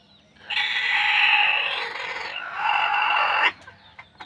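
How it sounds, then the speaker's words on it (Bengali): A hen that has just laid an egg lets out a loud, drawn-out clucking cackle in two long bursts, close by, then falls quiet, with a few faint knocks after. "আর এই যে এখানেও ডিম পাড়ছে মুরগি আজকে"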